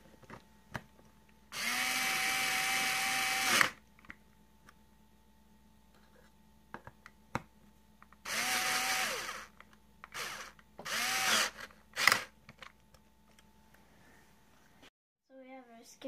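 Power drill tightening bolts on custom billet aluminum spacers and a skid plate, in several bursts of whirring: two longer runs, then shorter ones, separated by quiet, close and fairly loud.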